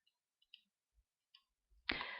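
Several faint, sparse computer mouse clicks while drawing pattern lines in design software, quiet and close, ending in a brief louder burst of noise.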